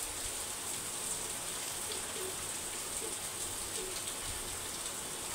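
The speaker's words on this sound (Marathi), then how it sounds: "खूप आवाज येतोय पावसाचा" Heavy monsoon rain pours outside as an even, continuous hiss with no break, and no one talks.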